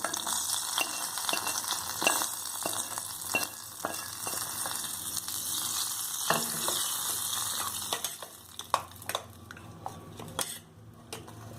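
Hot tempering being mixed into curd for a bottle gourd curd chutney: a close crackling sizzle with spoon scrapes and clinks against the bowl that turn into scattered louder taps near the end, no talking.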